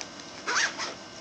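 A zipper on an umbrella's carrying bag is pulled open in one quick rasping stroke, followed by a shorter second tug, close and fairly clear against a quiet room.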